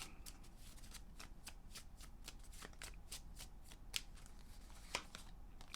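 Tarot cards are shuffled in a steady run of crisp riffling flicks, with a couple of sharper snaps near the end, quiet and close with no voice.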